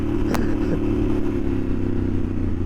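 Yamaha Super Ténéré 1200 motorcycle engine running with a steady, throaty low drone and clattering mechanical texture, close and loud, with a brief sharp click early on.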